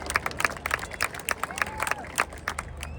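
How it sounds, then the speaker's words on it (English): An airshow crowd on the English Riviera at Torbay claps in a steady patter of many hands after a display by the synchro pair and Red 8, with some crowd murmur mixed in. "let's give the synchro pair and Red 8 a massive round of applause"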